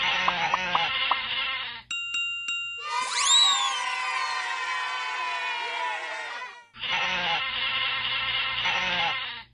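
Sheep bleat in a children's phonics game, long wavering cries standing alone between bright chiming ding tones and short game jingles, loud and close.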